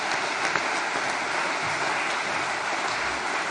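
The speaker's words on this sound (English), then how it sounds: "And I think Suzanne deserves a real round of applause for her fantastic resolution." Sustained applause from a conference audience at a party's inaugural conference, a dense, steady wash of clapping that fills the whole stretch at an even loudness, with no voices rising above it.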